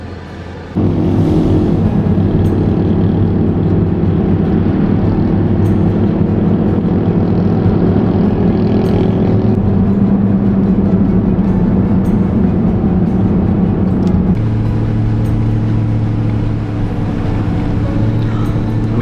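Inside a diesel overland vehicle climbing uphill, the engine drones loudly and steadily with a low rumble, shifting pitch partway through as the load changes, with no talking.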